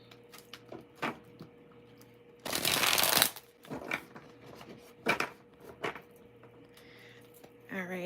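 Tarot cards being shuffled close by: a dense riffling burst, then scattered softer card taps and slides at a quiet, intimate level.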